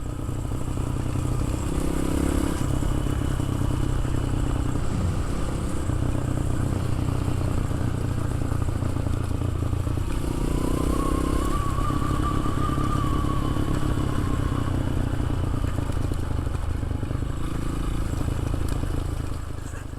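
Honda CRF 230L dual-sport motorcycle being ridden, its single-cylinder engine droning steadily and loudly throughout with slight surges in revs and a brief rising whine midway, wind rush underneath and no talking.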